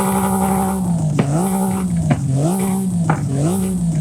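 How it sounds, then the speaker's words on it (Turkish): A Honda engine in the video game Forza Horizon 5 revs repeatedly, rising and falling in pitch with a loud, buzzy growl and brief shifts between each rev. "Hemen bu arabanın sesini dinleyeceğiz"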